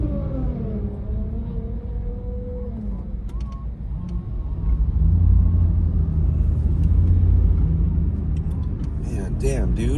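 A huge truck rumbles nearby with a deep, heavy engine drone that grows louder partway through, while people talk over it and brief sharp clicks sound near the end.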